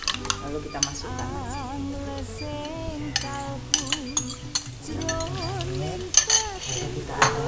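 Utensil stirring beaten eggs into Padang-style crab sauce in a pan, soft scraping and clinking strokes over a faint sizzle, with singing music playing throughout.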